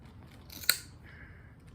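A single quick scissors snip cuts a short length of line while a lobster hoop net is being rigged, a crisp isolated click against a quiet background.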